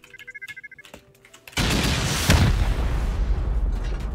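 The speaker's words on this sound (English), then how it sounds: "We'll do 3 rockets and then C4 if needed" Rocket explosions during a raid in the survival video game Rust: soft clicking gives way to one sudden loud blast with a dense, roaring rumble, then a second burst hits about a second later and the rumble carries on.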